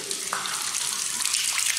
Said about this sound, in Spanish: Cae agua de cualquier lado acá.